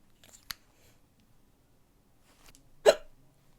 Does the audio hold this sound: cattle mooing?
no